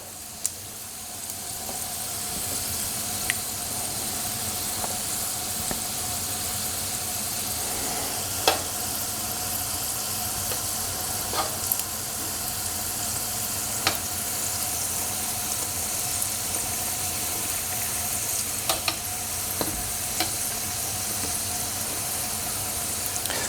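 Egg rolls frying in hot oil give a steady, even sizzle that continues for a long stretch, with a few faint clicks and taps scattered through it.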